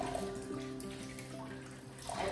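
Running water from a tap as fresh coriander leaves are rinsed in a kitchen, a steady close wash with faint dish clatter, no talking.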